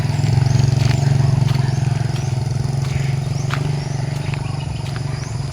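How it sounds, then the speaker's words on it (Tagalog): A motorcycle rolls by close and loud, its low, buzzy engine pulsing evenly and then slowly easing off over several seconds. "may dumaan na motor"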